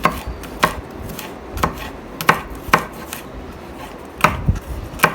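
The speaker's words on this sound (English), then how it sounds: "In the same way, cut the garlic and ginger fine." A knife chops garlic and ginger finely on a board, giving sharp close thuds in irregular pairs and single strokes, spaced roughly a second apart, over a quiet room background.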